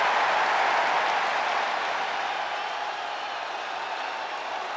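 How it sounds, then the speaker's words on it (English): A wrestling arena crowd in the WWE 2K24 video game roars in a broad, sustained ovation of applause and cheering, fairly loud at first and easing slightly as it goes on, with no voices standing out. "Listen to this ovation."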